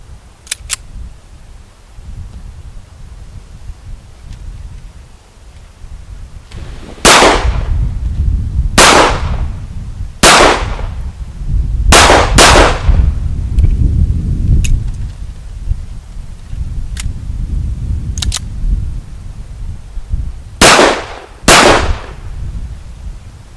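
Shots from a Sig Sauer 1911 Scorpion pistol on a shooting range, heard as loud, sharp reports, single and in quick pairs, spaced several seconds apart over wind and low rumbling background noise.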